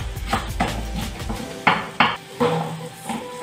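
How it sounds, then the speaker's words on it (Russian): Fifty grams of fresh cilantro being finely chopped with a knife on a board, a run of close, sharp taps and clicks in uneven rhythm with brief pauses between bursts, with no talking. "я беру 50 грамм свежей кинзы и мелко ее нарезаю."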